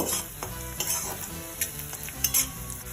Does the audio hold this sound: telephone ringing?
no